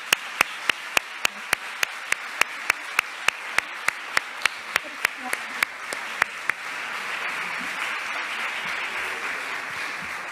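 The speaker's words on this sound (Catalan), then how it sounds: "Un aplaudiment, sisplau." Audience applause at a Catalan mental health nursing conference: a run of sharp, evenly spaced claps that swells into a steady, dense round of clapping from the crowd, fairly close and with no talk over it.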